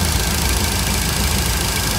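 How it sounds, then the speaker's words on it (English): A 1966 Cadillac engine fitted with a Holley Sniper fuel injection system idles steadily, a loud, close, continuous rumble with no voices. "It's got a perfect idle right now."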